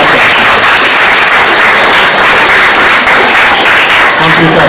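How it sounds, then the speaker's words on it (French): Loud, dense applause from a large audience, steady and continuous throughout. "je vous demande de les applaudir encore une fois"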